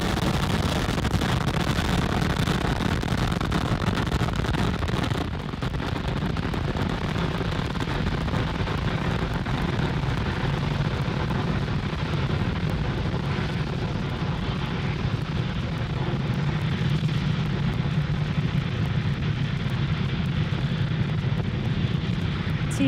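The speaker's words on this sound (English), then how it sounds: "Falcon 9 has successfully lifted off from Cape Canaveral Space Force Station, carrying our stack of Starlink satellites to orbit" Falcon 9 rocket engines roaring during liftoff from Cape Canaveral Space Force Station on a Starlink mission, a loud continuous broadband rumble with deep crackling low end that holds steady for the whole stretch, with no voices.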